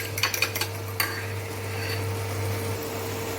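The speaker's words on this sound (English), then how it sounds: "whisk it first with a fork" A fork whisking eggs in a bowl gives a quick burst of sharp metallic clicks and taps near the start, then a softer scraping swirl over a steady low hum.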